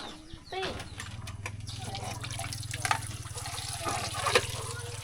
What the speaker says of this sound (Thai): ล้างคักแต่ละอย่างเนาะ